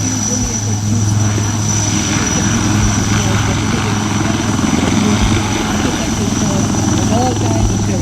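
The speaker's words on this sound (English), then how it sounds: "as the helicopters approach the commandos and simply get away from the drop zone" Military Mark III helicopters flying low over a drop zone at an army celebration, a loud continuous rotor and turbine roar with a steady whine, close and dominant, while an announcer talks over it.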